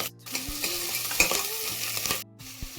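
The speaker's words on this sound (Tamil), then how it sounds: "ஒரு வெங்காயம், கருவேப்பிலை போட்டு ஒரு 2 நிமிஷம் வதக்கிக்கலாம்." Onion and curry leaves sauté in a pan over mustard seeds and urad dal, a close, steady sizzle with rhythmic spoon scrapes and a few metallic taps against the pan.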